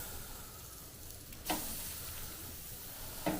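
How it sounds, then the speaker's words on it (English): Meat sears on an Expert Grill kamado grill with a quiet, steady sizzle, broken twice by brief sharp scrapes or clatters. "Get the sides all seared in"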